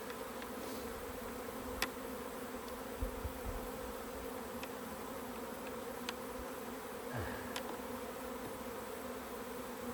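A dense crowd of honey bees hums around a packed beehive on the verge of swarming, a continuous close drone with scattered soft taps and one low thump, no voices.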